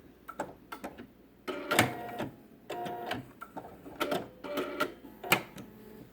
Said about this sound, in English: I'm going to sew to the end of the quilt. And then I'm going to back stitch and cut my thread.